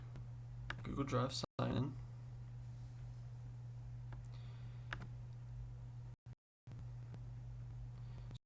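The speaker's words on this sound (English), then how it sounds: "So I actually have a Google Drive, so I'll type in my Google Drive" Keys clacking on a computer keyboard while signing into Google Drive, a quick close flurry of taps early on and a few sparse clicks afterward over a steady low hum, with a short stretch of speech.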